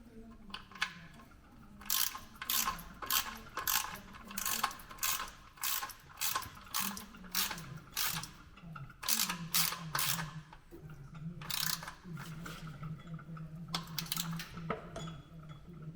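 A hand ratchet tightens the oil drain plug on a Land Rover Defender during an oil and filter change. Close, loud bursts of rapid clicking repeat in quick rhythmic strokes with short pauses between them.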